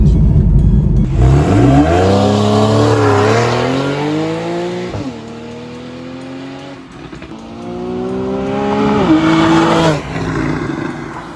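A naturally aspirated flat-six in a Porsche 911 Carrera 4S (997/991 generation) revs up hard through rising gear sweeps, drops briefly between shifts, then climbs again, loud and close with no talk.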